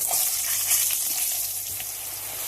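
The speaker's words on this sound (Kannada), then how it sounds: "ಬದನೆಕಾಯಿ ಎಲ್ಲ ಬಾಣಲೆಗೆ ಹಾಕೊಂಡಿದ್ದೀನಿ" Steady sizzling of eggplant frying in a hot pan, an even crackling hiss with no voices.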